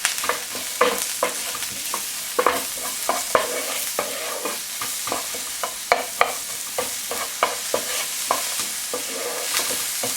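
Red and white onions frying in a pan, a soft continuous sizzle broken by repeated scraping stirs of a utensil, close and fairly quiet with no talking.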